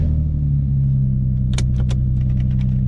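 Drift car idling with a steady low rumble, a few short clicks or jangles partway through, no clear pull-away yet.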